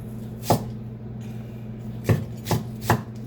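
Knife chopping pork and vegetables for a simple home stir fry on a cutting board: one sharp chop, a pause, then three evenly spaced chops, close and crisp over a steady low background hum.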